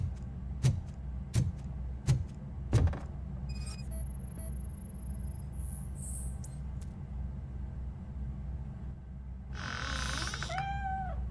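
A cat meows in the video game RoboCop: Rogue City, a single rising-and-falling cry near the end after a few soft knocks over a low steady game ambience.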